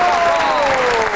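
Brief burst of audience applause welcoming a guest on a Pakistani comedy show, with clapping under a sustained musical tone or voice.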